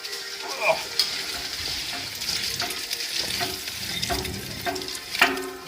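Hand-turned grape crusher working through Shiraz grapes, berries and stems dropping into an old crate; a steady wet crunching and rustling with scattered clicks and knocks from the mechanism, close and continuous.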